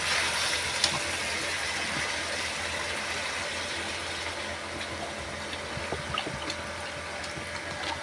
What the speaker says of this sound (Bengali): আমি এখন জল দিয়ে দেবো।